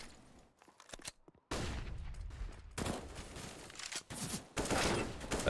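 Rapid bursts of FAMAS rifle fire in a Counter-Strike match on the Nuke map, loud dense rattling volleys broken by short pauses, close and alone.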